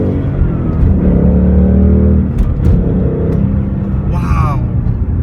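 A 2016 Ford Mustang GT V8 engine rumbles loudly with deep low tones, rising in pitch as it revs, close by, with a voice speaking briefly near the end.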